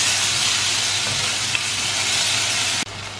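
Onion, tomato, green chili and curry leaves sizzle steadily in a hot pan for sambar, a close, continuous frying hiss that cuts off sharply near the end.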